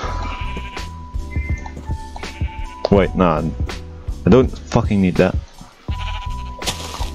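Several video game sheep bleat in short, wavering cries, some loud and close, interleaved with someone talking over them and a faint musical tone.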